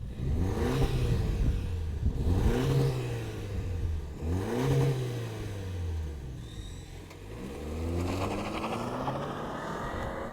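A 2025 Toyota 4Runner SR5 with a four-cylinder turbo engine runs steadily and close, with a deep rumble and rising and falling revs throughout, and no talk.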